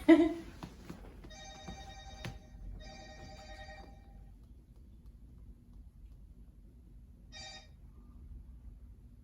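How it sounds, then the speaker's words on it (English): A work phone rings in bursts of electronic trills: two ring bursts close together near the start, a pause, then another short burst later, heard indoors at moderate level after a brief knock. "One of my work phones is ringing."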